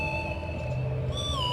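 A whistle is blown in a Zelda video game to call a horse: clear sustained tones that bend downward as a new pitch enters near the end, heard over a low hum with no talk.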